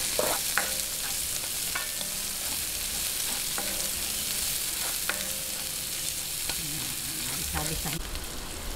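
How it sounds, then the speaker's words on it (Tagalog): Garlic and onion sauté in a hot pan for pork belly hamonado, a steady sizzle with intermittent stirring scrapes and clinks throughout, close and unbroken, no talking. "Ngayon, umpisahan na po natin yung paggigisa. Unahin po natin ang bawang."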